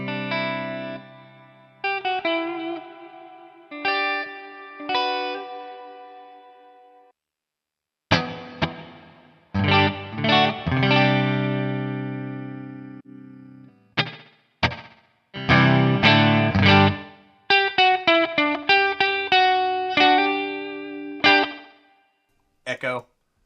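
Electric guitar played through a Line 6 HX One chamber reverb, picked notes and strummed chords separated by gaps, each ringing out into a smooth roomy decay.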